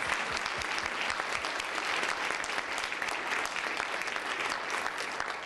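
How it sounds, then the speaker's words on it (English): An audience applauds the newly installed 2018 GTACC board, dense steady clapping from many hands that fills the room evenly and fades slightly at the end. "Let's give them a round of applause."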